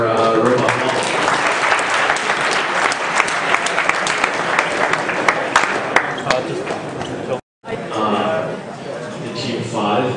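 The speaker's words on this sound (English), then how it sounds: "a round of applause for Robot Ball" Applause and cheering from a crowd at the Maslab 2010 final robot competition, a steady, loud wash of clapping for a competing robot team that breaks off briefly, then resumes with voices mixed in.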